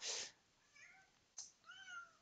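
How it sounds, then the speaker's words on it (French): A cat meows in the mobile survival game Last Day on Earth: a faint, thin meow, a soft pause, then a second drawn-out meow, quiet and alone with no talk over it. "Ouais, le chat."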